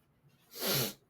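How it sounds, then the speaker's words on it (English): A single loud, hissing nose blow bursts out close by for about half a second, set against a quiet room. "Sorry, I had to blow my nose."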